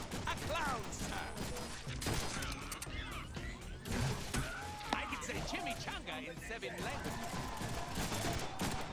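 Rapid gunfire crackles through a Deadpool video game battle, with bursts of shots, metallic clatter and impacts layered under shouting voices and in-game dialogue.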